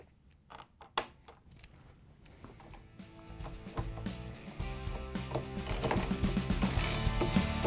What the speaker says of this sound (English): We're going to use the 10mm socket with the ratchet and the long extension to put the screws in.